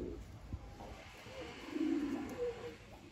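Homing pigeon cooing outdoors, a low soft coo swelling near the middle and again shortly after, over faint background noise with no talk.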